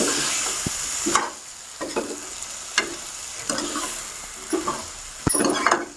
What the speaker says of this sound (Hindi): इसी तेल मसाले में ये बैगन फ्राई हो गया है